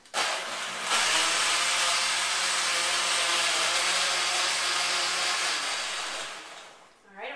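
A blender purees watermelon chunks for juice, whirring in a loud, steady high-pitched roar for several seconds before winding down near the end.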